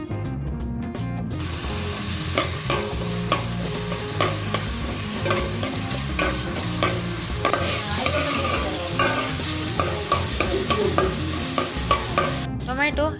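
Ginger and tomato fry in hot oil in a pan, loud continuous sizzling broken by repeated spoon scrapes and stirring clatter, with a brief pause before the sizzle resumes.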